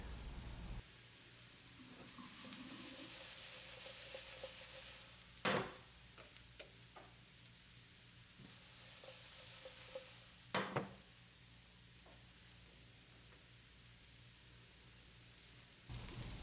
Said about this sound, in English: Once the oil is somewhat heated, add your scallions.